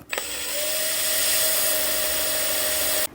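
A Makita DHP490 cordless impact drill spins its chuck with no load, giving a steady, fairly loud motor whine that starts suddenly, holds for about two and a half seconds, then cuts off.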